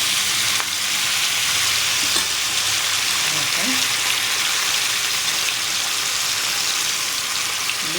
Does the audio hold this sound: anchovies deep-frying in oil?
yes